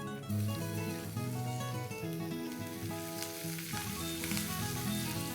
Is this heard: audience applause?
no